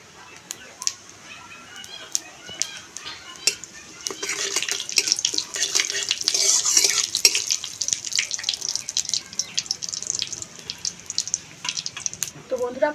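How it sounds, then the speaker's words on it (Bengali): Panch phoron, a five-spice mix, sizzles in mustard oil in a kadai. A faint start swells after a few seconds into a steady, close frying hiss with scattered crackles that holds and then eases slightly. "কড়ার মধ্যে দিয়ে দিচ্ছি পরিমাণ মতো সর্ষের তেল, আর এখানে আমি 5 ফোড়ন দিচ্ছি।"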